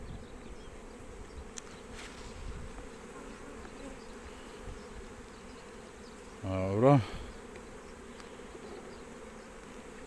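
Honeybees hum in a steady low drone around an opened hive during an inspection, close and continuous, with a person speaking briefly near the end.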